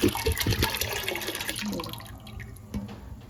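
Water pours into a pot of chana dal lentils that already has some milk added, a close splashing gush that fades toward a gentle trickle, with no voices.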